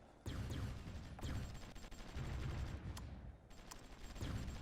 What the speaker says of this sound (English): Oh, we're under attack from artillery.